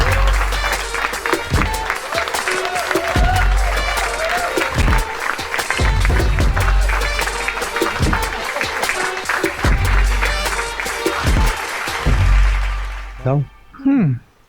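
Loud applause from a crowd welcoming a writer, composer and singer onto a stage, with heavy thumping music and voices running underneath the clapping until it cuts off near the end.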